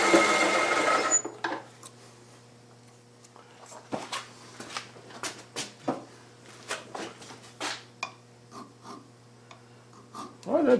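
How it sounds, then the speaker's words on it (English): A metal file taking cuts across a steel R8 shank's threaded end, a series of irregular raspy scraping strokes, close and moderately loud after a brief louder noise at the start, with a steady hum underneath. "that's taking a cut with the file."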